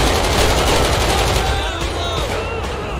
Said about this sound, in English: Oh, he's shooting at a cop.